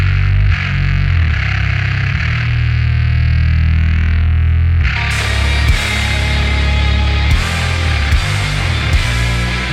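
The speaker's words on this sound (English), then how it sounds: "a fuzz bass, which sounds like this" A fuzz bass guitar plays intense, saturated sustained notes in a music mix, a clean low tone at first, then a gritty distorted layer kicking in halfway with regular rhythmic hits.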